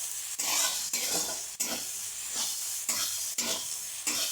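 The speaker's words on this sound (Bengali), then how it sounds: "একটু ভালো করে ভেজে নেব" Green peas being fried in a pan while making a cabbage ghonto, with a continuous close sizzle broken by regular stirring strokes roughly every half second to a second.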